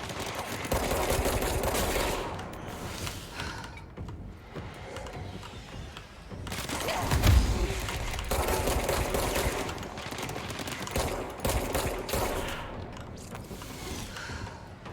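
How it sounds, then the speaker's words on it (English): Rapid gunfire from shooting in the action game Control, dense bursts of shots in clusters with short lulls, loud and close throughout. "I'm not good at shooting in this game"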